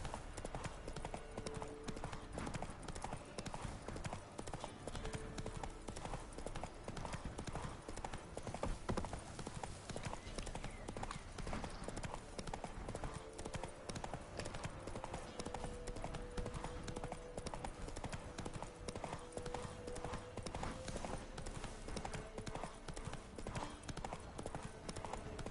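Hooves of Roach, the horse in the Witcher 3 video game, clip-clopping in a steady continuous rhythm under dense game music and ambience, running the whole stretch at moderate loudness.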